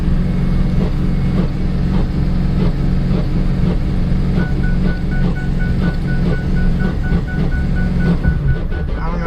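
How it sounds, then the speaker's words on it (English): A 2005 Ford F-250 truck's turbo flutters repeatedly under a steady engine drone, a rapid chattering pulse running close and loud with no talk. "even if you let off the gas slowly, it's still just turbo farts like crazy"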